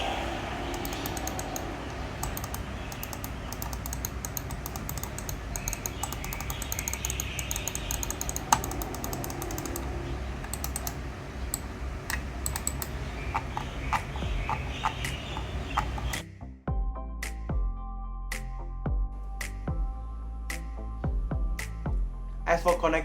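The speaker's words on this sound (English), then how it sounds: "here is a sound test of the mouse click and the scroll wheel" Clicks from a Rapoo MT750 wireless mouse button and scroll wheel, first a busy run of small ticks over a noisy background, then sparser, crisp separate clicks against a quieter, steady low hum.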